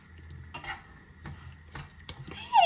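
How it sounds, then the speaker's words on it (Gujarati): Spoon stirring a paneer marinade with garam masala and chilli powder in a bowl: several soft scraping strokes at close range, with a sharper clink at the end, no talk. "હવે 1 ટેબલસ્પૂન ગરમ મસાલા. હવે મિક્સ બધું કરવાનું, મેરિનેટ થઈ જાય એટલે."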